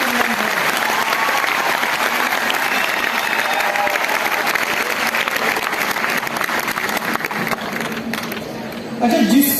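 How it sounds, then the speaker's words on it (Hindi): A large audience claps loudly and steadily for nearly ten seconds at a lively Hindi-language talk, with crowd voices and a few shouts mixed into the dense applause, which swells again near the end. "आप अपने लिए जरा जोरदार ताली बजाओ"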